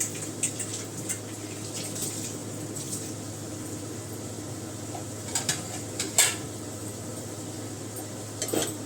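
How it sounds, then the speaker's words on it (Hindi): Poi saag greens stir-fry in a pan, giving a steady hiss with a few light clinks and scrapes of a utensil against the pan. "तो इसको भी मैं भून लेती हूँ अच्छी तरीके से"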